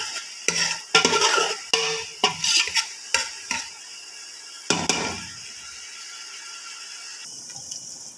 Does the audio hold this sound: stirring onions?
yes